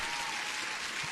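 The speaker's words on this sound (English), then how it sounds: "you deserve an applause" Applause fills a short burst, a steady wash of clapping at low volume with no pauses or voices on top.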